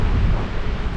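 Strong wind buffeting the microphone at Stump Lake beside Highway 5A in British Columbia, a steady loud low roar that fills the whole second with no voices.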